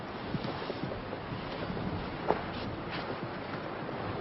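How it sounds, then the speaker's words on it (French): Strong wind buffets the microphone outdoors, a constant low rushing blow at modest level, with a brief louder gust thump near the middle and no speech. "Il y a trop de vent, on peut pas y aller."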